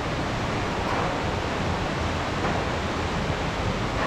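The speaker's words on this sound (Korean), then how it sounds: "예, 아까 그 협곡을 통해서 떨어지는 폭포입니다." Waterfall dropping through a rocky gorge on Seoraksan in autumn, a steady, dense rush of falling water that stays constant and fairly close throughout, with no voices.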